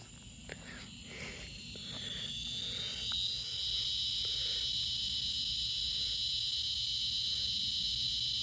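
Cicadas sing in Homosassa, Florida, in a continuous, shrill, high-pitched drone that grows fuller after the first few seconds and holds steady, with a few faint taps underneath.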